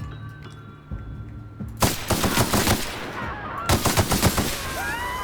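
A powerful gun firing in The Outer Worlds, heard as two loud bursts of rapid shots about two seconds apart. Each burst cracks close and heavy over a low game-ambience hum.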